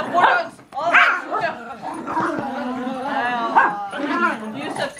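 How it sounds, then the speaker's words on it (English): Four dogs barking, yipping and howling excitedly at the same time, loud and close, their overlapping voices rising and falling in a tuneful chorus. "They're all going insane and like barking at the same time"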